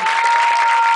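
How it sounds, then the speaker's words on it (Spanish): Applause from a church congregation during a talent night, steady and dense clapping filling the whole moment with a faint constant tone underneath. "Yo le pido a ustedes que le den un aplauso."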